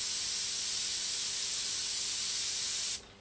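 An airbrush sprays in a steady, loud, hissing blast, sputtering from a dirty, uncleaned nozzle, then cuts off abruptly near the end, leaving near silence.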